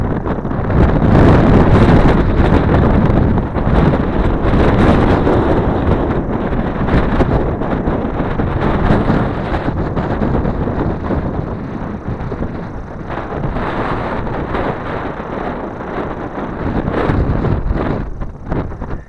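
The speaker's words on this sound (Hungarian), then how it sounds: "baromira fúj itt fönn a szél" Strong wind buffets the microphone on an exposed hilltop along a walking route between Veszprémfajsz and Balatonfüred, a loud, continuous roar with gusty swells that fills the whole stretch with no voices.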